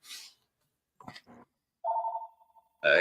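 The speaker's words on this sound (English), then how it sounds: "You got a phone call. You might have to take that." A landline telephone rings in a short burst, then a steady electronic ring tone and another loud ring follow, clear and close with brief pauses between.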